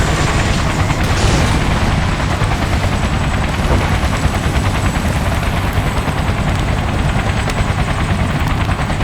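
Hostile choppers in Battlefield 2: Modern Combat keep up a loud, steady rotor roar throughout, with bursts of gunfire and booming impacts layered over the drone.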